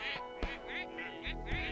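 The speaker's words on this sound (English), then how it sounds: "The birds are leaving." Cartoon ducks on a farm quack repeatedly as the birds fly off, a quick overlapping series of nasal calls with a steady background bed behind them.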